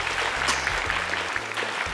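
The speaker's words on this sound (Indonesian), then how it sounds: "Tepuk tangan dong untuk Rais nih." A studio audience at the Hafiz Indonesia 2018 televised Quran-memorization contest applauds a contestant, giving a short, steady burst of clapping under a low background hum.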